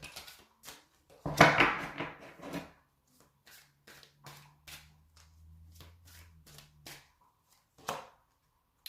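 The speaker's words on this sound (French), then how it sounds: "je vais prendre un autre jeu, on va rajouter des cartes" A deck of tarot or oracle cards being shuffled by hand in a quiet room, with one loud riffling burst early on, then lighter soft card taps and slides, and a low hum in the middle.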